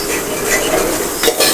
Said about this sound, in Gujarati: હવે તેને સારી રીતે મિક્સ કરી દઈશું. ચટણીને થોડી સાંતળી લેવાની.